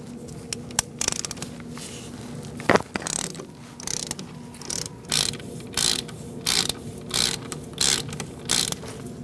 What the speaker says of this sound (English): Using an 11mm socket, we're going to take out this bolt.